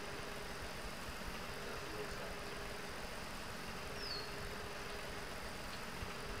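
A steady, low video game tractor engine rumble from Farm Expert 2017 drones on without a break, medium loud, with a faint brief whine partway through and no voices.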